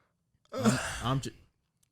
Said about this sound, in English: So I was yawning, bro.